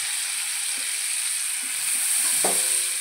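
Mustard greens drop into a hot pan with turmeric, chili and salt, giving a steady bright sizzle with a few soft stirring clinks and one sharper scrape near the end.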